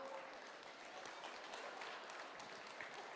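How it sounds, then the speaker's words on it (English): Crowd applause for a robotics team at a FIRST Tech Challenge qualifier in Washington, DC, a steady, dense wash of clapping heard from some distance. "All right, another round of applause for Future Gadget"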